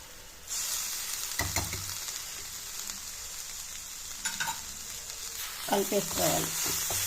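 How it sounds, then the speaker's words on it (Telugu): Lemon juice goes into amla pickle in a hot pan, bringing a steady bright sizzle of frying with scattered stirring scrapes and knocks, fairly loud and close. "తర్వాత కొద్దిగా నిమ్మరసం వేసి"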